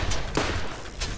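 A revolver fires in the video game Borderlands, two or three sharp, loud reports in quick succession within about a second, with a short ringing tail after each.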